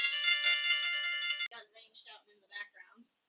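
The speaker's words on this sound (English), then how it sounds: "I got a phone call" A phone rings with an incoming call, a bright repeating electronic ringtone for about a second and a half before it cuts off and a voice briefly speaks.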